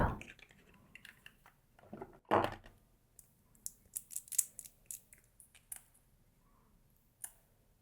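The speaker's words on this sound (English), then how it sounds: "To use scissors to open this up." Scissors snip through packaging in sharp clicks, with one loud crinkling burst followed by a quick run of small snips and rustles, close by.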